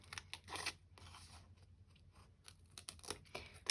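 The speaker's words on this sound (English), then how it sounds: "I'm just going to cut this one out with my scissors" Scissors snip through paper to cut out a leaf shape for a collage, a string of quiet, close crisp cuts in an irregular rhythm, with faint paper rustling between snips.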